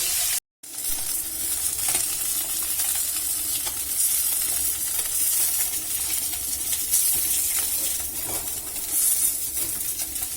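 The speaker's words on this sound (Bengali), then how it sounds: "মাছগুলোকে ভেজে নিতে হবে।" Bhola fish fry in a pan of hot oil, a continuous crackling sizzle with occasional stirring clinks, steady and fairly quiet with no voices.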